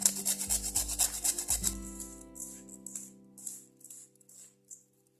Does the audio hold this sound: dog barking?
no